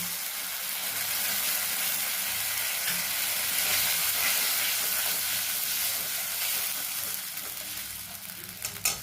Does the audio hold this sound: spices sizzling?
yes